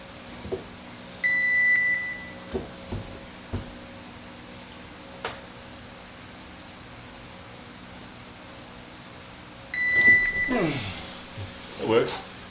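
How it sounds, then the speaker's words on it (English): Electronic timer beeping to signal the start of an arm wrestling round at a training table, two steady tones around 1–2 s and again near 10 s, with background murmur and people talking. "So let's go to the second beep that happens."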